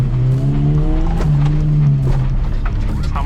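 A Suzuki Jimny Katana in rally raid trim drives fast off-road in 4L low range, its engine loud and close with a steady revving drone and brief tire scrabble on dirt.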